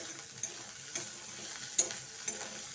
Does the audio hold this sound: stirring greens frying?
yes